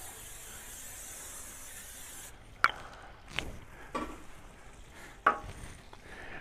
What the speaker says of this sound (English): We're gonna spray it with some olive oil.